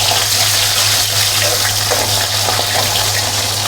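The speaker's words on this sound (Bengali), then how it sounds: "চাপা শুটকি আমি ধুয়ে রেখেছিলাম, আমি দিয়ে দিচ্ছি। এখন তেলের মধ্যে ছেড়ে দেব।" Dried chapa shutki fish with okra frying in hot oil gives a loud, steady sizzle and crackle, with a low constant hum underneath and no voices.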